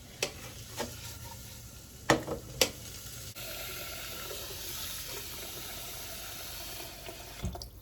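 Food fries on very low heat in butter and olive oil, giving a soft, steady sizzle close by, broken early on by a few sharp stirring clinks and knocks against the pan.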